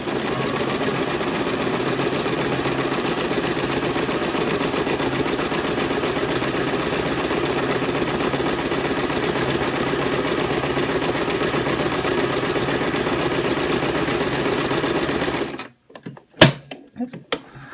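A sewing machine stitches piping in one long, steady whirring run that fills most of the stretch, then stops and gives way to a few quiet knocks and handling sounds.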